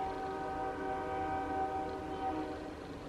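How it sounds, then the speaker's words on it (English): A train rolls by close at hand, a steady rumbling drone with a sustained horn-like tone running throughout, loud and continuous for the whole stretch, with no talking over it. "I'm sorry for the train noises."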